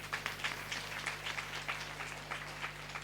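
Rhythmic group clapping in praise during a Sunday church worship service, steady beats repeating throughout at moderate loudness with a low hum underneath.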